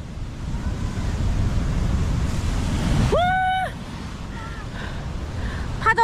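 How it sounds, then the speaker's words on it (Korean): A steady roar of heavy ocean surf in the rain in Hawaii washes throughout, with a brief whistle-like tone cutting through near the middle. "파도 소리 장난 아니더니 정말 파도가 대단합니다"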